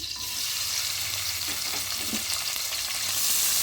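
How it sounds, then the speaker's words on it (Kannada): Loud, steady sizzle of onion frying in hot oil in a pressure cooker, with a few soft scrapes of stirring and no talking. "ಚೆನ್ನಾಗಿ ಫ್ರೈ ಮಾಡೋಣ ಸ್ವಲ್ಪ"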